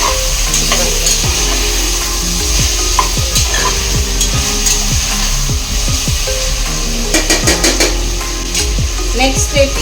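A spoon stirs yakhani pulao in a hot pot, scraping and clinking over a steady loud sizzle of frying, with close, repeated stirring strokes throughout.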